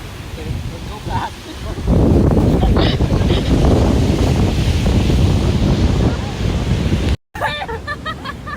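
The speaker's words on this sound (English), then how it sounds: "It's windy now." Gusty wind buffets the microphone at a beach while surf rolls in the background, a heavy continuous roar that swells after a quieter start, with a brief dropout near the end and faint voices.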